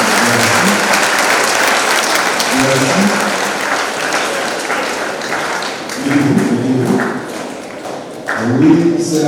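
A congregation applauds at a solemn Catholic Mass for the Immaculate Conception, loud sustained clapping filling the church, with a few voices rising briefly from within the crowd.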